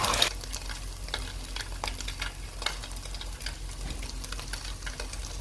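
Food fries in a pan for a quick breakfast, a steady close sizzle with occasional faint scrapes and taps as it is stirred and turned.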